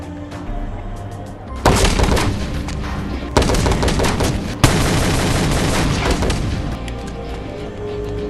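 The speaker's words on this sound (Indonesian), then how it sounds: "Robert yang sedang membawa senjata kembali menembaki para mafia yang dianggap sampah masyarakat" Film gunfire from a Steven Seagal sniper action movie: sustained loud bursts of rapid shots with sharp onsets, several dense volleys one after another, with no talk.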